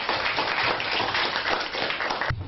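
Pupils at a school in Antalya give a dense, continuous round of applause. The clapping is fairly faint and even, then stops abruptly near the end.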